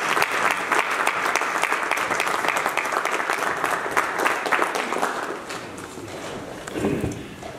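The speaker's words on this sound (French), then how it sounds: "je vous prie d'accueillir en l'applaudissant" A conference audience at a Congolese diaspora congress applauds to welcome a speaker, dense clapping filling the hall before thinning and fading toward the end.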